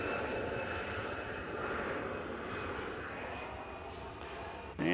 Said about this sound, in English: And here's a Delta A319, Flight 2316, headed to Detroit.